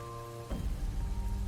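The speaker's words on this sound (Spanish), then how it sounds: "Una lluvia fina golpeaba las ventanas" Light rain sound effect against windows at night in a hospital, a soft steady patter that comes in after a low tonal hum and continues as a dense close wash.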